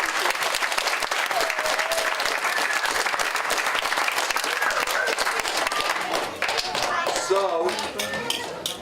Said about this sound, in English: Can we have a round of applause for all those?